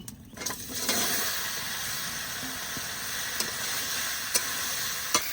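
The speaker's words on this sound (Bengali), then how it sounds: "এবার লাউ ভালো করে ভেজে নেবো।" A steady sizzling hiss of bottle gourd frying in mustard oil, with a few sharp clinks of a utensil against the pan.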